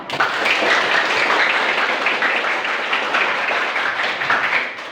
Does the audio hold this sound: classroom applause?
yes